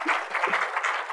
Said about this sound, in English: Pretty cool. Clap for that, maybe.